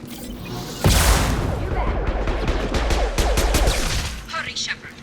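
Shotgun blasts in Mass Effect 2, a sudden loud boom followed by a dense run of rapid gunfire cracks and impacts in close combat, with game noise carrying on underneath.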